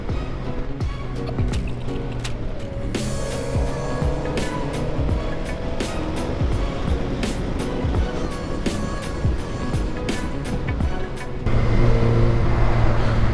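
A car rolling slowly along a road, heard from inside as a continuous low rumble with scattered clicks and knocks, growing slightly louder near the end.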